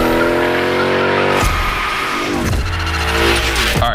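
A car drifting in The Crew Motorfest racing game during a gymkhana session, with a loud, continuous engine roar shifting in pitch under sustained tire squeal and skidding, close and dominant throughout.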